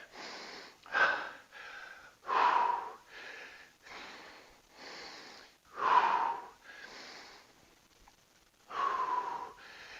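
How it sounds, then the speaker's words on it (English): Heavy, rhythmic breaths, sharp and breathy, puff out about every second or so during a TRX and kettlebell workout, each a strong burst then a quieter one, with no other sound. "can you control that breathing?"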